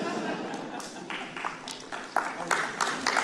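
An audience at a talk on succeeding at work claps in scattered bursts, a few sharp nearby claps standing out over a soft, uneven patter and room murmur.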